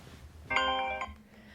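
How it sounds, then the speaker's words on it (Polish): A phone gives a short electronic ring for an incoming call, a bright tonal chime lasting about half a second over quiet indoor background. "Ktoś do mnie dzwoni."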